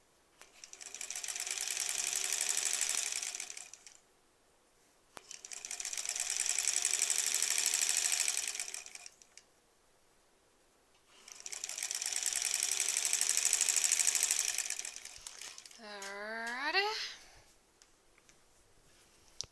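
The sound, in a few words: sewing machine sewing quilt back pieces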